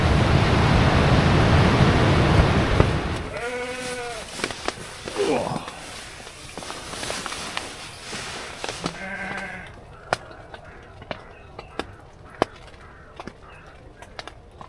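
Sheep bleating near a fence at a wild, stormy bushcraft camp, with loud wind or surf roar at first, then several distinct bleats followed by scattered knocks and clicks. People talk in parts of the clip.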